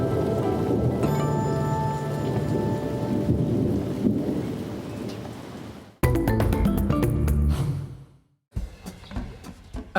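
Heavy rain pours at a monkey park with rolling thunder, a dense continuous hiss and rumble that cuts out abruptly twice before resuming, loud and close.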